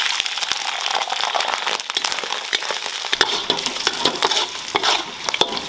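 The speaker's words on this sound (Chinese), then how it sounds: "然后把猪皮都倒进来" Pork skin fries and sizzles in oil in a wok, with loud crackling and the scraping clatter of stirring close by, continuous throughout.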